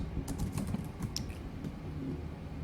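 A blog menu title being typed on a computer keyboard: a quick run of close, light key clicks with brief pauses, fairly quiet, no speech.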